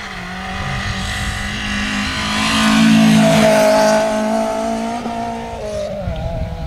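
A rally car, recently rebuilt, drives hard along a stage, its loud engine note rising and falling with revving and gear changes, swelling as it draws nearer and then easing away.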